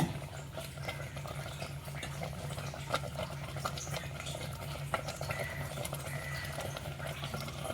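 Varagu millet rice boiling in a pot in a Tamil home kitchen, a steady crackling bubble with faint scattered pops over a low constant hum.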